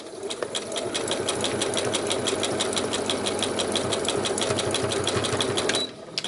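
A sewing machine stitches a zigzag pattern into fabric, running as a steady, rapid mechanical chatter of evenly spaced needle strokes close by for nearly six seconds before stopping abruptly.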